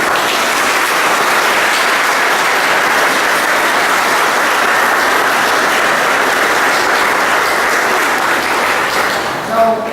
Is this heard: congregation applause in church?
yes